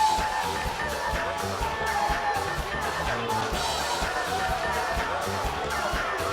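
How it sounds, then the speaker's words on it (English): A crowd in the wrestling video game WWE 2K18 keeps up a dense, steady roar of cheering and whooping, with commentary speech running over it throughout. "the crowd certainly seem to be into Vivacious C here"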